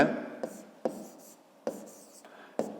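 A pen scratches across paper while a fifth-grade maths exercise is worked through, short strokes in four separate bursts, close and quiet, with a brief whisper near the start.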